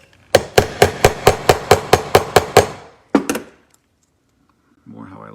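Hammer tapping a rivet through a modified rivet spreader on a TJet slot-car chassis: a quick run of about eleven sharp metallic strikes, then two more after a pause, close and loud.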